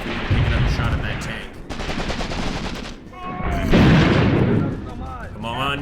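Gunfire in Graviteam Tactics Mius Front, a loud near mix of rattling rapid bursts and heavier booming shots in continuous battle noise, with whistling sounds overhead and no talk.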